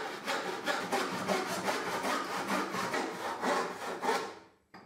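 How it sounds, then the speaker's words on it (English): Hand saw cutting through a thin wood strip, steady back-and-forth rasping strokes repeating rhythmically, close and fairly loud, ending abruptly as the cut finishes. "But this time I will use my handsaw."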